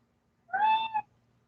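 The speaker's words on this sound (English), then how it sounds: "I've got my cat on a diet" A house cat on a diet lets out a single clear, drawn-out meow, close by and moderately loud against a quiet room.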